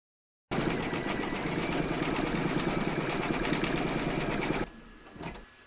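An embroidery machine stitching a crown onto a coaster, running as a fast steady mechanical chatter for about four seconds before stopping, leaving a quieter tail with a faint clunk.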